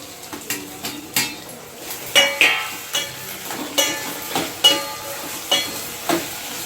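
Onions fry in a pan for sambar while a metal spatula stirs and scrapes, giving a steady run of close clinks and knocks against the pan over a soft background sizzle.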